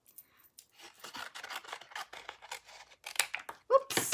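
Card stock for a Christmas card being cut down by hand, a series of quiet scraping and snipping strokes with a sharper snip near the end, heard close and alone.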